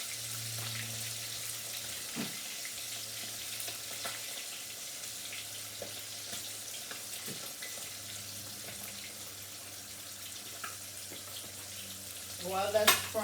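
Fish frying in a pan gives a steady low sizzle across the whole stretch, with an occasional clink and a brief burst of louder activity near the end, with no speech.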